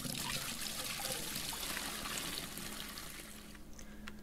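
Water pouring and trickling steadily into an aquarium in the game Aquarist, a continuous close hiss that eases slightly toward the end, with no talking.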